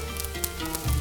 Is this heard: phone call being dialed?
no